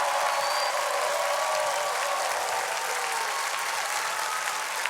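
Studio audience applauding on a French TV music show, a dense, steady wash of clapping that holds at an even level for the whole stretch with a few faint tonal sounds underneath.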